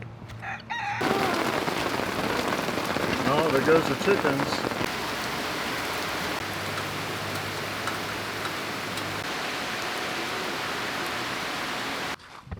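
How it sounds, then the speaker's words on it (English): Heavy rain from a storm without thunder or lightning pours down steadily in a dense, loud wash of noise, while a rooster crows briefly and a voice speaks over the downpour. "There really wasn't any thunder or lightning, but it was heavy rain."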